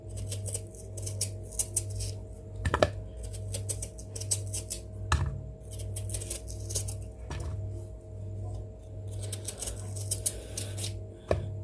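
A knife paring the skin off a yam, steady rhythmic scraping and cutting strokes repeating close up over a constant low mechanical hum, without speech.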